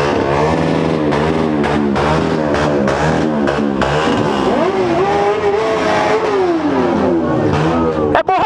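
A Jaguar XJ6 fitted with an 8-inch exhaust pipe revs hard and loud up close at a car event, its engine note rising and falling in sustained roaring sweeps, ending with a sharp knock.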